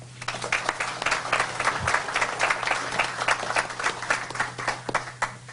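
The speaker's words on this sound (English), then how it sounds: "Let's give a round of applause for Mike Dimler." Audience applause fills a housing conference hall, a steady wash of many hands clapping at moderate volume for several seconds with no speech over it.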